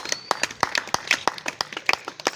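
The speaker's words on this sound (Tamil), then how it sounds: "கைதட்டும்" Hands clap in an irregular burst of sharp, close claps, roughly a dozen quick strikes over a couple of seconds, in a school setting with a little background murmur.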